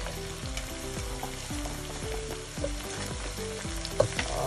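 Garlic and chopped carrots frying in a pan for coconut milk carrot curry, a steady close sizzle with repeated stirring scrapes in an even rhythm, no voices.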